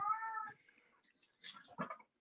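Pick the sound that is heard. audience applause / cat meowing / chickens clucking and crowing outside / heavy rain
cat meowing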